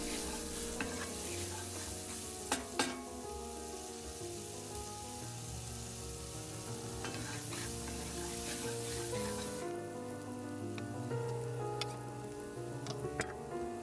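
Onions and garlic fry steadily in a pan for a Spanish seafood rice sofrito, a continuous close sizzle with a few sharp spoon-on-pan clinks from stirring.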